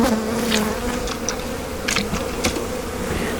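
Dense honeybee colony buzzing from an opened hive, a steady near drone with brief louder swells as bees lift off and pass close.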